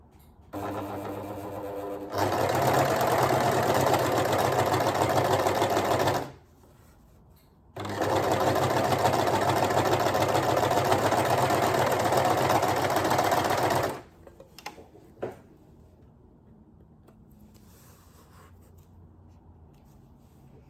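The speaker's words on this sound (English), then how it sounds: "Just overlock, and that gives a really professional look and stops any fraying." An overlocker sewing machine finishes the fabric edges of a dress bodice in two steady, loud runs of about four and six seconds, separated by a short pause and followed by a few faint clicks.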